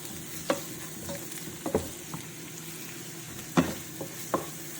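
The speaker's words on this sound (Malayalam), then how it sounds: "ഇനി അതിലോട്ട് നമ്മൾ ഉള്ളി ഇടുന്നു. ഉള്ളി ഇട്ടതിന് ശേഷം നന്നായിട്ട് ഇളക്കുക." Sliced onions frying in a pan of oil for Gobi Manchurian, stirred with a spatula: a steady soft sizzle with several sharp scraping clicks spread through it, close and fairly quiet, with no voices.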